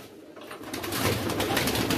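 A flock of about 125 pigeons released together from a pigeon farm, with a rising, continuous rush of fluttering wings mixed with soft cooing that stays close and steady.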